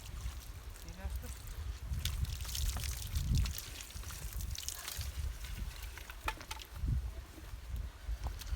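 Water runs and pours through a pipe near an outdoor cooking spot, with uneven splashing and trickling and a few louder gushes at close range. Faint voices come and go underneath.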